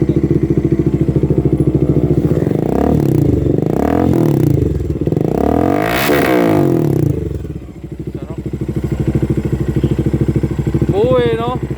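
A Bajaj Dominar motorcycle with a Vmax exhaust revs hard and loud close by. Its steady growl swells into repeated throttle blips, then settles back to a rumbling idle.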